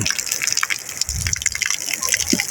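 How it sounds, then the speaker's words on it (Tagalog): Water gushing from a natural spring, a loud, continuous splashing rush close by, with a voice briefly heard over it. "Ayan po ang bukal."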